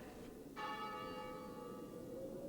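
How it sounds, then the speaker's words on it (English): A single bell strikes once and rings on with a long, sustained metallic tone that fades slowly, faint and distant against a quiet low hum. "There's the bell again."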